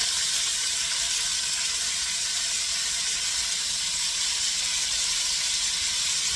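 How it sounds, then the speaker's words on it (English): A continuous loud sizzle of bell peppers, onion and celery frying in a hot pan, an unbroken hiss that stays steady throughout. "Now you can take the bell peppers, the onion, and the celery and dump it in there."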